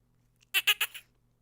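A quick run of four high, sharp squeaks, like a tiny mouse, most likely a voice imitating it in a told fairy tale, with quiet around them.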